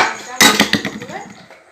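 A metal lid set onto a cooking pot of pea curry, one sharp clanking contact followed by a few quick rattling settles that fade out, close and fairly loud.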